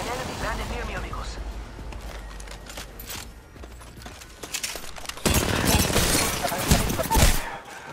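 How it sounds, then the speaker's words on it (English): Bursts of gunfire in an Apex Legends match: scattered shots early, then a louder, denser volley of rapid fire with shattering clatter in the second half, mixed with game effects. "We got shot. Taking fire."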